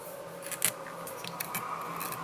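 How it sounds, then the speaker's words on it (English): Scissors pick at loose dubbing fibres while a fly is tied, giving faint, brief snips and scratchy rubs up close in a quiet room. "Using my scissors, pick it out."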